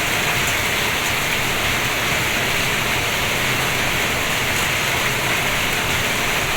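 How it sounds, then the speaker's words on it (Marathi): Sudden hail and unseasonal rain pour steadily onto farmland, forming a loud, even hiss that stays constant from start to finish with no voices. "गारांचा हा पाऊस पडलेला आहे आणि अचानक पाऊस आलेला आहे"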